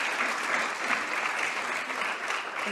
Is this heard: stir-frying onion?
no